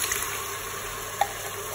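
Tomato pulp being stirred in a Cookeo pot, a soft continuous simmering hiss with a faint single clink of the spoon near the end.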